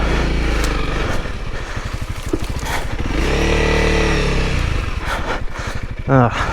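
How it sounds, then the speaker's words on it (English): A Honda CRF300L motorcycle ridden off-road on a challenging trail, its engine chugging and revving in rhythmic pulses close to the microphone, with heavy breathing or faint voice mixed in. "this is a good example of what the CRF can do"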